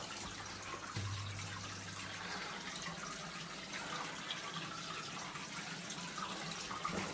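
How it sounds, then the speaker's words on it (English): A waterfall inside an old gold mine tunnel gives a faint, steady rushing wash that continues throughout without interruption. "Sounds like a waterfall up ahead."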